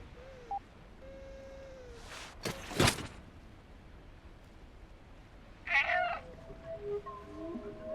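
A small cat meows several times in the video game Stray, short faint mewing calls spread across the moment, with a couple of louder sharp bursts between them and no talking.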